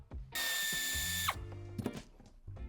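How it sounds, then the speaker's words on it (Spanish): A power screwdriver or drill runs in one steady burst of about a second, backing out a screw from an interior trim panel of a Mercedes-Benz GLE, with a few clicks and handling knocks before and after. "retiramos el tornillo que sujeta esta pieza en la parte central"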